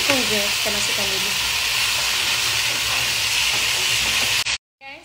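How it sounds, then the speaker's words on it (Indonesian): Water spinach (kangkung) hits a hot pan for porridge and sizzles loudly with steady steam hiss and a few stirring scrapes, then the sound cuts off abruptly near the end. "So kangkung je kita masukkan dulu."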